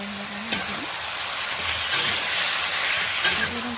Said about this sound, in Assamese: এতিয়া এইখিনি মই কেৰাহীখনত ভাজি দিম